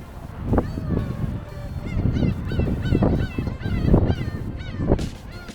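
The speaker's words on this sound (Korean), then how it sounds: "갈매기만 엄청 많아서" A crowd of seagulls calls loudly and repeatedly near the Lion Rock on Baengnyeongdo island, overlapping harsh honking cries rising and falling close by in a busy, continuous chorus.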